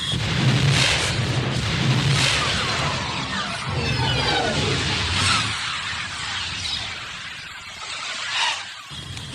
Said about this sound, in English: All aircraft stand by for missile launch. 3, 2, 1. Missiles away.